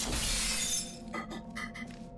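Glass shatters in the video game Portal 2, a loud bright crash followed by several scattered tinkling shards settling.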